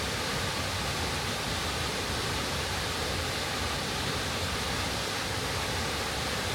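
A South Wales waterfall pours in a steady, unbroken roar of broadband rushing water, close and constant throughout with no voices.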